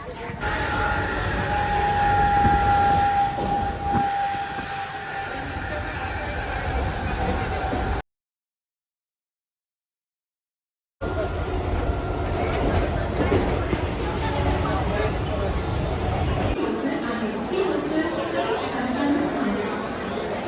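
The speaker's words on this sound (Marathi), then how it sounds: "दादरच्या रेल्वे स्टेशनला सध्या मी दादरच्या रेल्वे स्टेशनला एवढी गर्दी बघतो" At Dadar railway station in Mumbai, a train rumbles and hums along the crowded platform amid steady chatter, with a brief squeal, a short gap of silence, then continued rolling and crowd noise.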